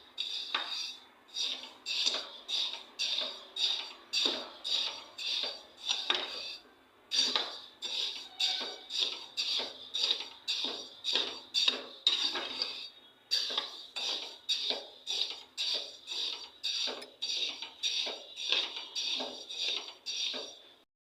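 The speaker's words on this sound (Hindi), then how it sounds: "यहाँ पर हम मेथी को चलाते हुए भून लेंगे अच्छे से।" Fenugreek seeds are stirred and dry-roasted in a pan, giving a close, rhythmic series of metallic scraping strokes roughly every half second, repeated steadily with brief pauses and no voices.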